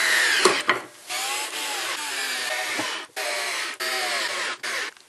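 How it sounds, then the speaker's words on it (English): A small electric screwdriver drives a screw into wood, its motor whirring up close in several short bursts separated by brief pauses, with a slight strain as it bites. "Don't know if this little electric screwdriver will do it, but we'll find out."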